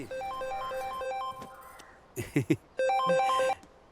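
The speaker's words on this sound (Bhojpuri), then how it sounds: "अरे फोन बजाता देखी ना।" A phone ringtone plays a repeating electronic tune nearby, pauses briefly amid a few soft knocks, then rings again.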